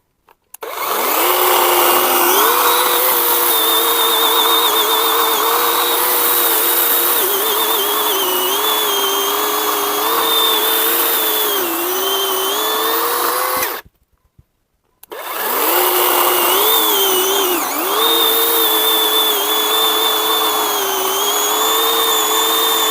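A Grosser GCS 120SF cordless chainsaw cuts through raw apricot wood with a loud, steady motor whine that wavers under load, stops briefly near the middle, then resumes for a second long cut.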